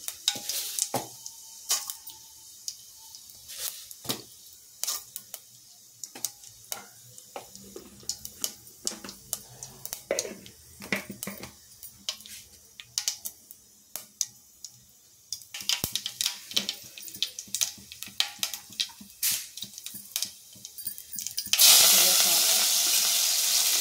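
Dried red chillies, cumin and mustard seeds sizzle in hot oil for tomato rasam, crackling and popping in irregular bursts over a faint hiss, ending in a loud, steady sizzle.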